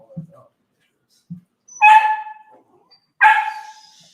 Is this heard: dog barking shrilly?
yes